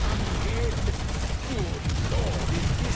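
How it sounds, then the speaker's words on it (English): Sustained fully automatic scarab gun fire in a video game, a dense continuous rattle filling the whole stretch, with faint voices underneath. "Right behind you is a big lad who I'm just fucking lighting up with this fully automatic weapon"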